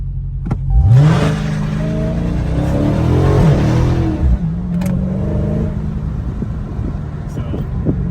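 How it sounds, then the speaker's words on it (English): A widebody Dodge Charger Hellcat launches from 2000 RPM, its supercharged engine rising from a rumble into a loud, close revving roar before settling back to a throaty idle, with someone talking over it. "the vehicle gonna launch at 2000 RPM"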